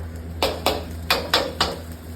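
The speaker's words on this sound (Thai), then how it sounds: "เราจะค่อยๆผัดไปเรื่อยๆนะครับ" Rice and egg stir-fried in a pan for fried rice: five sharp metal spatula scrapes and clanks against the pan, evenly spaced and fairly close, over a steady low hum, with no talking.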